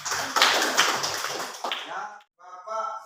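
A classroom of students clapping together on cue, a dense burst of close, bright hand claps lasting about two seconds, then a short silence and a voice speaking.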